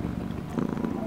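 A gift cat purrs while being stroked, a low steady rumble heard close, with a little faint noise over it.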